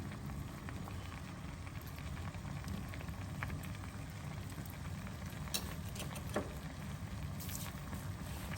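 A pot of okra, tomato and onion curry boiling on the stove, a steady bubbling and popping patter heard up close and continuing evenly throughout, with no speech.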